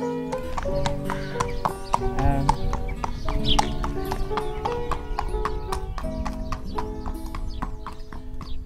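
Steady clip-clop of racehorse hooves with sharp, evenly spaced strikes, close by, over a busy background with music-like tones and occasional voices.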